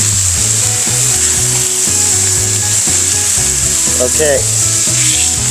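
Beef and sausage smash burgers sizzle loudly and steadily on a flat-top griddle, a close, continuous fry with a low rhythmic thumping underneath and a brief spoken word.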